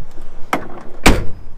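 Two door thumps from a 2021 UAZ Hunter, the second loud and close as the rear door is shut, with a softer knock just before it and no talking.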